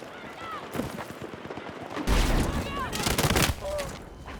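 Rapid bursts of machine gun fire in the video game Battlefield 6, loud and close, broken by sharper blasts and chatter of battle, with a player's voice talking over it.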